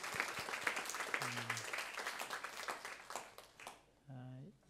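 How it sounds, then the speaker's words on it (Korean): A church congregation applauds with a dense, quick patter of claps that fades toward the end, while a nearby voice talks briefly over it. "큰 박수로 감사합니다"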